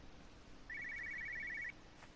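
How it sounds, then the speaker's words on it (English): A telephone rings once inside the video game Everybody's Gone to the Rapture, a single steady electronic trill lasting about a second over a quiet ambient background. "I can hear a phone ringing."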